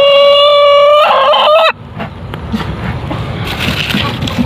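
Native hens at a nesting spot during egg harvest: a loud, close honking squawk for the first second or two, then a quieter stretch of rustling and low clucking.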